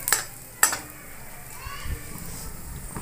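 Whole spices, including black cardamom, a cinnamon stick and asafoetida, stirred in hot oil in a pan; two sharp spoon clinks near the start over a soft sizzle, with faint voices and children in the background.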